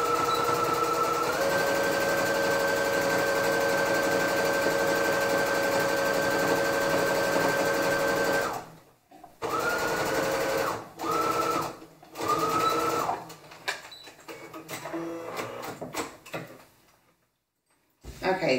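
A sewing machine stitches a pocket onto a garment in long steady runs, then several shorter bursts with pauses between, loud and close.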